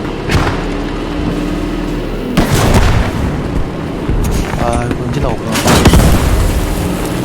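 Loud booming explosions in the World War II shooter Post Scriptum during a tank battle, several heavy blasts in a few seconds over continuous engine and battle noise, with voices talking.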